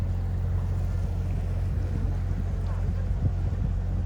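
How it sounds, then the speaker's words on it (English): Canal boat in Bruges, Belgium, giving a low, steady engine rumble with wind buffeting the microphone and faint water sounds throughout. "And now we're on the boat ride."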